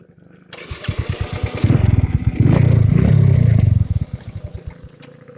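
A Rusi motorcycle engine putters in rapid low pulses, then revs hard twice into a loud sustained roar before dropping back to a fast idle, close by with no talk.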